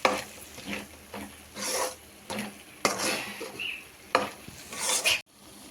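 A spoon scrapes and stirs through a thick capsicum masala curry mixture in a pan in several repeated strokes, with a soft sizzle underneath and no talking.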